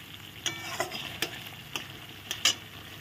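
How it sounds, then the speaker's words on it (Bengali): Spice paste for a prawn malaikari cooking in a pan, giving a soft steady sizzle broken by several sharp scraping stirs of a spoon, close and moderately quiet, with no one talking. "মশলা ভালো করে সব কিছু দিয়ে কষানো হয়ে গেছে"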